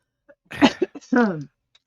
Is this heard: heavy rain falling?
no